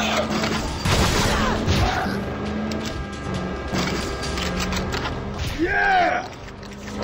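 Dense bursts of light machine gun fire from a zombie-themed shooter game, Road of the Dead 2, rattling loudly with booms and mechanical clatter while a player shouts over it.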